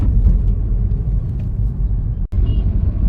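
A car is driven on the road, with a steady low engine and road rumble throughout, close and fairly loud, and one brief dropout near the end.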